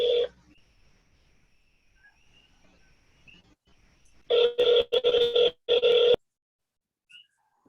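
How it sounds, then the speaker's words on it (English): A telephone rings in someone's room during an online meeting. After a quiet stretch, three close electronic ring bursts sound clearly and loudly, with no talking over them. "Lee, do you have a phone going?"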